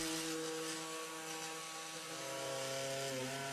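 Steady mechanical whine of a small Proxxon delta sander with an angular oscillating pad running continuously, with a sustained buzzing hum and slight pitch shifts, no voices.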